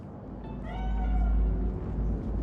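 A cat meows in the video game Cyberpunk 2077 Phantom Liberty, a single drawn-out, fairly loud call over a low ambient game hum.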